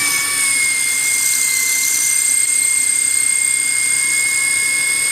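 A cordless power drill fitted with a screwdriver bit, its bit clamped in pliers to load it, starts up and runs with a steady, loud high-pitched motor whine that holds without letting up.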